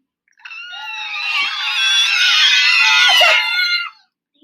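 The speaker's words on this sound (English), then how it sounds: "this time we are going to make a high-pitched sound" Several voices hold a loud, shrill, high-pitched vocal tone together for about three and a half seconds, then stop abruptly.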